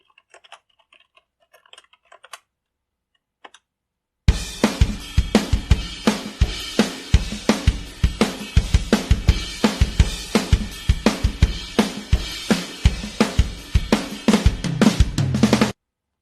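A rock drum solo sample plays loud and alone after about four seconds of near silence, with a steady, rapid run of sharp hits and crashes continuing until it cuts off.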